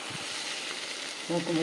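Brinjal curry sautés in a pan, a soft steady sizzle close by, with a brief low clatter of stirring near the end and no speech.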